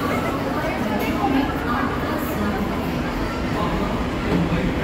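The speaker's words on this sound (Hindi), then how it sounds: "ये प्लेटफॉर्म है मुंबई मेट्रो का" A Mumbai Metro train rumbles steadily along the Kandivali platform, with a continuous low roar and faint clatter, voices murmuring in the background.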